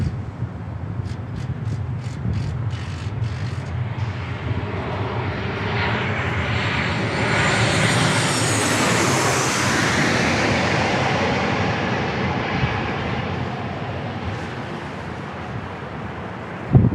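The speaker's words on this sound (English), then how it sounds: "some F-18s doing some action Jackson over there" F-18 fighter jets flying near San Diego International Airport, a broad roaring engine rumble that swells to a loud peak midway and then slowly fades, sustained and unbroken with no talk.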